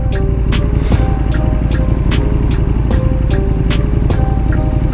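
A Yamaha R6 sport motorcycle runs at speed with a loud, constant engine drone and wind rush, a few sharp ticks and clicks breaking through the roar.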